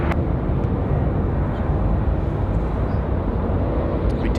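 A jet airliner takes off from runway 23 left at Raleigh-Durham International, its engines a steady loud broadband roar that holds level throughout, with no voices over it.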